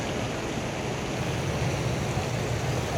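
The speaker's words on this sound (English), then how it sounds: "They got their water feature running." An outdoor water feature fountain in Yorkville Village, Toronto, runs as a steady, dense rush of splashing water, continuous and fairly close, with faint city ambience beneath and no talk.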